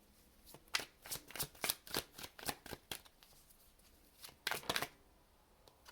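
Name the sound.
shuffling tarot cards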